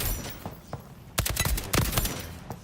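Several sharp gunshots from a heavy-recoil weapon in the video game ALARA Prime ring out in bursts, with fainter isolated shots before and after the main volley.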